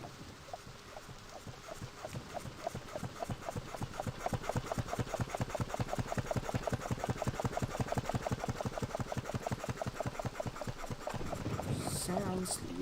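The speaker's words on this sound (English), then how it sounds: "Sounds like a pump." A pump runs aboard a boat in the Myst video game, a steady fast mechanical chugging pulse that holds a regular rhythm for many seconds and then cuts off near the end.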